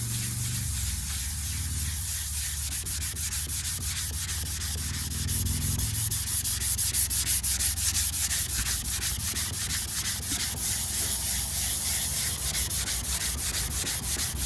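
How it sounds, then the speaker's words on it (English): Steady rhythmic rubbing and scraping of a sanding block on car paint, continuous back-and-forth strokes, close and fairly loud, growing denser partway through. "you're basically sanding this until the scratches are gone"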